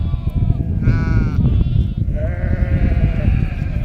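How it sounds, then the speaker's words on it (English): Sheep and young lambs in a farm pen bleat several times at close range, with wavering calls overlapping above a constant rumbling background. "looks like we got a couple little lambs in here"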